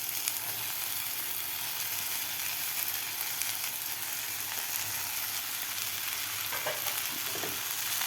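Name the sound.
soaked sago frying with tomatoes in a pan for upma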